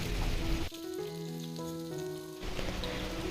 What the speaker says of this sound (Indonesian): Setelah minyak panas, baru kita masukkan jengkol yang udah kita potong tipis-tipis.